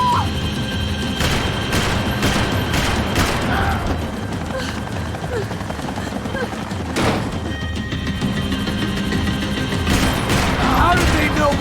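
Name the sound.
gunfire in Max Payne 3 video game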